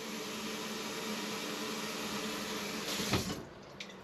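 Tap water runs steadily into a dog's water bowl, a continuous close hiss that swells and shifts briefly near the end before easing off.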